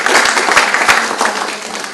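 An audience applauding at a conference plenary session on the future of education, a dense burst of close clapping that fades slightly over two seconds.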